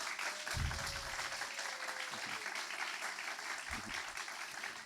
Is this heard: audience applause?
yes